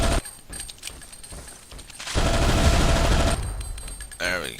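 Rapid automatic gunfire bursts out in a Zombie Shooter 2 boss fight, with scattered shots first, then a long, loud sustained volley, followed by a few more shots and an electronic effect, with a voice talking.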